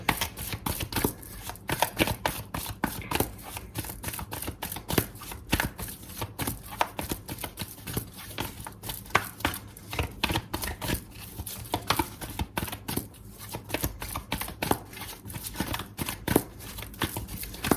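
Tarot cards shuffled continuously by hand, a dense run of papery riffles and slaps close up, steady throughout with no talking.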